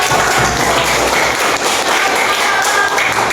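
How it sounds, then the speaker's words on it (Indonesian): A classroom of students claps for their class presentations, loud, close, continuous hand clapping with dense overlapping claps and occasional thumps throughout. "beri tepuk tangan atas presentasi yang telah kalian lakukan semuanya"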